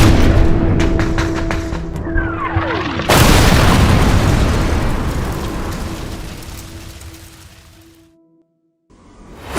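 A grenade bursts in combat with a sudden, loud, close boom that rolls into a long, fading rumble, preceded by crackling gunfire and a whistling sweep, before the roar decays and a brief silence falls.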